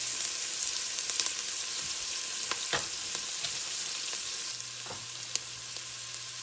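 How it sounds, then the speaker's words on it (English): Chopped onions sauté steadily in a pan for a homemade soup, giving a continuous, even sizzle with a few faint crackles and small clicks. The sound is close, and no one speaks. "now we're going to let those onions just start sauteing"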